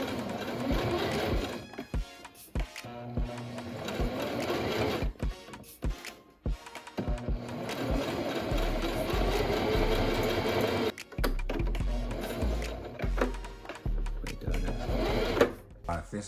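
Sewing machine stitching fabric for a homemade tote bag: rapid mechanical chattering runs in bursts broken by short pauses, close and fairly loud, with a person speaking at times.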